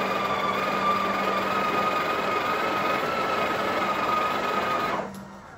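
A Breville Oracle Touch espresso machine grinds coffee beans with a steady, loud motor whine that runs for about five seconds and then cuts off, with no talking.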